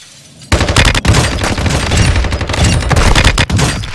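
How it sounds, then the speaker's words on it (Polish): Dense, rapid gunfire bursts in a game, near and loud, with overlapping shots continuing steadily after a quiet start and no talking. "O, przed nami strzały."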